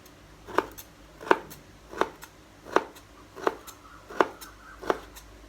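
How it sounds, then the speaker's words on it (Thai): A knife cuts through roasted Oroxylum (mali) tree seed pods in seven evenly spaced, crisp slicing strokes, close and fairly quiet, with no voices in between. "หั่นเลยเจ้า"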